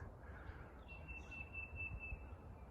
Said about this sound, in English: See if you can hear that bird.